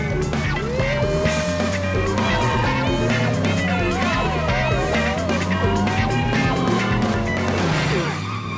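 Revving car engines and squealing tires roar in a busy, loud cartoon chase between a getaway car and toy police cars, with a wavering siren-like whine running over the top.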